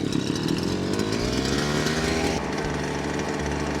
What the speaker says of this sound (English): the bush cutter's quite loud